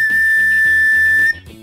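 A candy whistle, a sweet shaped as a whistle, is blown once in a loud steady high tone lasting just over a second, then cuts off abruptly, close up with no talking.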